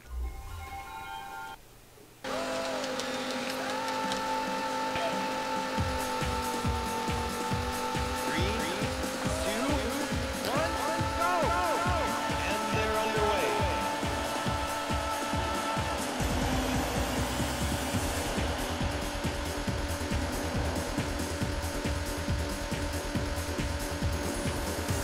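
Race cars in the video game Daytona USA, run under emulation on a PC: loud, continuous engine roar with rising and falling revs and gear changes, plus tire squeals, after a brief quiet start.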